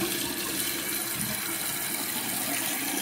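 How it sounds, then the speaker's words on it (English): Water drains steadily from a household toilet tank, a continuous rushing, gurgling flow heard close and fairly loud throughout, with no voices. "I'm gonna drain it now because I'm just muddying up the water"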